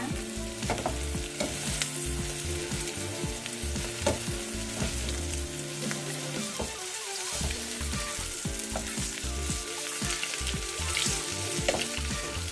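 A wild garlic omelette fries in hot oil in a pan, giving a loud, close, steady crackling sizzle with bursts of spatula scraping and a brief quieter moment around a flip.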